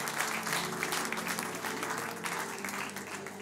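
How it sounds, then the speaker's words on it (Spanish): Congregation applauding during a Sunday church service: a continuous wash of many hands clapping at a steady, moderate distance, sustained throughout with a faint hum underneath. "un aplauso."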